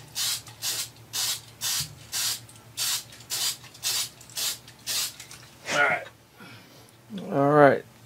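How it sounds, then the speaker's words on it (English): Old spray adhesive hisses from a can onto the dial of a 1934 Ingraham Bedford wall clock in a rapid series of about ten short, even bursts, followed by someone speaking briefly. "So I have this old spray adhesive."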